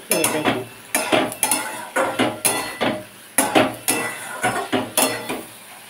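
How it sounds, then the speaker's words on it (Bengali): A utensil stirs moringa stem curry in a pan with a series of loud, rhythmic clanks and scrapes, roughly a dozen quick strokes in bursts with short pauses between them, and no voices. "ভালো করে নাড়াচাড়া করে নিয়েছি"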